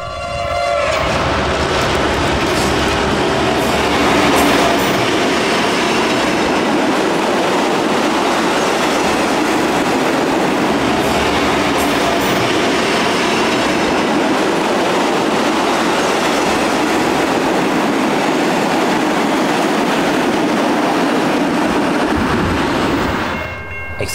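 Victorian Railways T342 steam locomotive hauling a train on the Goulburn Valley line in northern Victoria, a loud, continuous rolling rumble with rhythmic wheel clatter and brief whistle tones, heard alone without voices.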